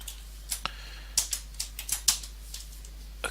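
Sparse keystrokes on a computer keyboard while code is typed, a few scattered clicks with short pauses between them, close and fairly quiet with no talking.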